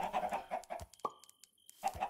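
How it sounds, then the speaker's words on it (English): Several chickens cluck in Minecraft, a flock of farm birds giving short repeated clucks in irregular bursts, fairly close, with a pause in the middle and no talking. "A load of chickens that I've been trying to um, duplicate."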